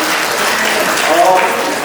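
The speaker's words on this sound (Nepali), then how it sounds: "सबैलाई ताली बजाइदिनु होला।" An audience at an annual family gathering in Ghandruk claps steadily, a dense, continuous wash of hand claps at even loudness throughout, with no clear break.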